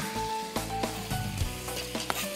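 Green chile frying in a pot with meatballs gives a steady close sizzle, broken by a few soft scrapes and knocks of stirring.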